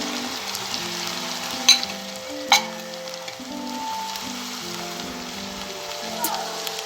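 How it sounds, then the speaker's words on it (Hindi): Diced potatoes fry in a pan for a Spanish omelette as onions are added, a steady crackling sizzle with a couple of sharp clatters, under soft melodic background music. "तो आलू को फ्राई होते हुए 1 मिनट हो गए"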